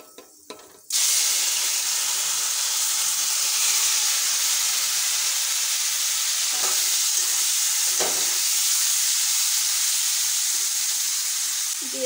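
Boiled mango dropped into hot oil with panch phoron, setting off a sudden loud hissing sizzle that holds steady and close, with a couple of brief stirring knocks and no talk.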